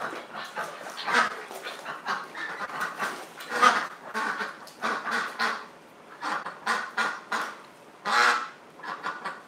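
A duck at a duck hospital quacks close by in a run of short, loud, rhythmic bursts with brief gaps between them.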